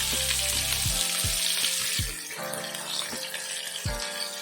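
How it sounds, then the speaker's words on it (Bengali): Chopped onion and green chili frying in oil over medium flame, making a bright, steady sizzle, with several sharp knocks of a spoon or utensil against the pan. "এটাও কিন্তু আমি মিডিয়াম ফ্লেমে পাঁচ থেকে সাত মিনিট ভাজা করে নেবো"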